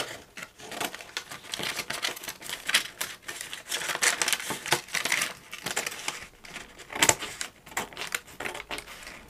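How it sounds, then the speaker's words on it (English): Pattern paper is handled, trimmed and shaped over a drafting table while a pleated neckline pattern is drafted by the slash and spread method: steady crisp rustling, crinkling and tapping close up, continuous for several seconds, with no talking. "I'm going to shape the pattern paper underneath."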